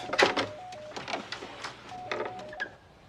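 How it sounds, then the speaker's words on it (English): A telephone being dialed at an office, a run of short tone beeps and clicks in irregular succession, moderately loud and close, with faint background noise. "Would you get Palmer on the phone for me"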